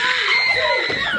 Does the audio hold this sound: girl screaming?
yes